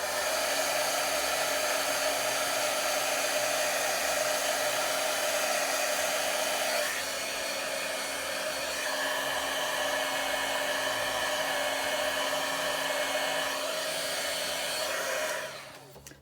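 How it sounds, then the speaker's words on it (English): A heat embossing tool blows hot air to heat-set stamped ink on a Christmas card, a steady, loud, close whirring hum that runs unbroken for about fifteen seconds before cutting off at the end, with no talking. "So I need to heat set them so that the powder only sticks to the ink that I'm using when I'm going to emboss."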